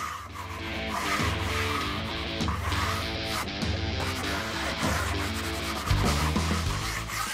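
A blade rubs and scrapes over dried wall filler in repeated back-and-forth strokes, close and steady, smoothing a skim coat on a wall to a fine dusty finish.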